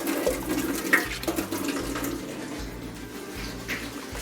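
Water pours steadily into a cooking pot already about half full, a continuous splashing flow close by with no talking.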